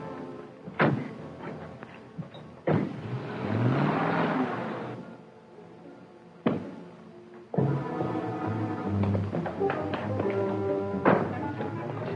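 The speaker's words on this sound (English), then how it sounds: "I'll follow in my car." A car starts and drives off in a vintage radio drama, with door thumps and taps, an engine revving up and pulling away, and then more thuds and movement, close and moderately loud.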